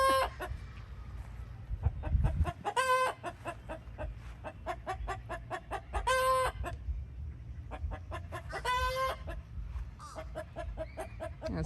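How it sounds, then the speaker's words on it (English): A rooster named Big Red crows several times in a backyard tropical food forest, with hens clucking and other birds around, over a steady outdoor background. "That's Big Red, my rooster."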